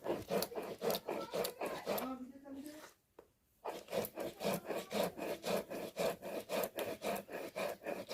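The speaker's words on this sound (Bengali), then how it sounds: "চালটা ভীষণ ভালোভাবে ভিজে গেছে, তাড়াতাড়ি বাটা হয়ে যাচ্ছে।" Soaked sun-dried rice is ground into paste by hand, giving a steady back-and-forth rasping rub about twice a second, close and fairly loud. A voice speaks over part of it, and the grinding pauses briefly partway through.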